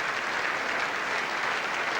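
Steady, continuous applause from a large crowd at an England v Australia cricket match after a six, a dense even patter of clapping with no voices standing out.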